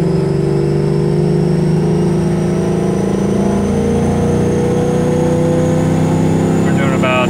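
Engine of a car with a 4R200 automatic transmission pulling hard in second gear, a loud, steady drone that climbs gradually in pitch as revs rise, heard from inside the cabin.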